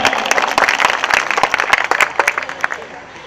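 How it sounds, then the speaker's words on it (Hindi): An audience at a celebration welcoming home a Paralympic medal winner breaks into applause, crisp close handclaps tumbling over one another for a few seconds before thinning out toward the end. "एक बार जोरदार तालियां आप उनके लिए बजाएं"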